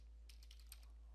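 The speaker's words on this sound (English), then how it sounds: "and then hit enter on your keyboard." Quick, light clatter of keys as a command is typed on a laptop keyboard, a short run of soft taps in a quiet room.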